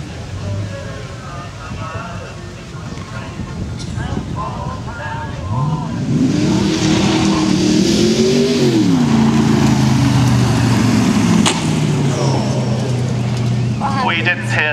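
An Ultima GTR sports car pulls away down a driveway at a classic and sports car show in Suffolk, its engine rising in a loud rev and then settling into a strong, steady drone, with people talking nearby.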